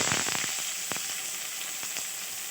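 Mustard seeds, fennel and finely chopped onions sauté in a pan for a Tamil crab pepper fry, giving a bright steady sizzle with a few soft stirring taps, close and continuous.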